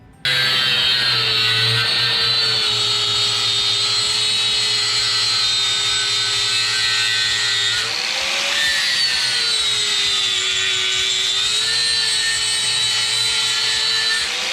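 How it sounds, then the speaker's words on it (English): Power grinder cutting down a BMR aftermarket sway bar on a Camaro during a 15-inch wheel conversion, a steady loud high-pitched whine running continuously with a brief dip in pitch midway. "So we're grinding away and gonna make it fit."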